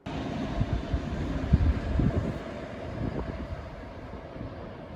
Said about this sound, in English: It's pretty windy, as you can hear.